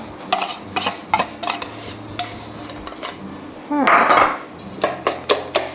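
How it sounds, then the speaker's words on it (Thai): Room-temperature butter beaten by hand with a whisk in a bowl for cookies: quick bursts of clinking and scraping strokes against the bowl, close and fairly loud, with a brief louder rattle midway and no talking. "ตีด้วยมือค่ะด้วยตะกร้อ"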